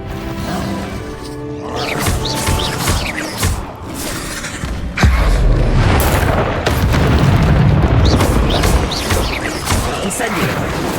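Fiery blast of the Incendio spell in Hogwarts Legacy on Xbox Series X, a loud booming burst around the midpoint that rolls on amid layered game effects, with earlier spell impacts and shuffling battle noise.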